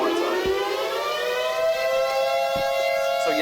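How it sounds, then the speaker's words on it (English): An air-raid style siren plays as a sound effect in a baseball video game, a loud steady wail with a rising and falling pitch that carries on alone throughout, with no talking. "So we get to hear that delightful siren."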